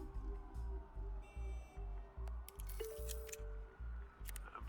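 Police car sirens wail at a distance in Batman: The Telltale Series, under a steady pulsing rumble and a few sharp electronic chirps.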